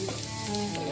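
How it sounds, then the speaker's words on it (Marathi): Ginger garlic paste sizzles steadily in hot oil for mutton biryani, a close, continuous fry with no break. "तेलामध्ये आपण अद्रक लसूणची पेस्ट टाकून घेऊ आणि ब्राऊन कलर येऊपर्यंत चांगलं त्याला भाजून"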